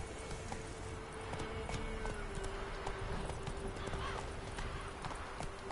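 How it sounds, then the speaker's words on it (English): Horse galloping in The Witcher 3, with rapid rhythmic hoofbeats pounding throughout, a neigh or whinny mixed in, and game ambience and a voice underneath. "Run, Roach."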